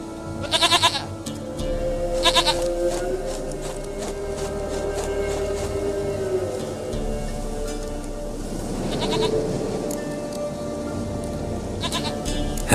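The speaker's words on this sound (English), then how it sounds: "Goat of mine, dearest, sweetest goat." Goats bleat from The Witcher 3, a few sharp, wavering calls close by over a soft, steady background hum.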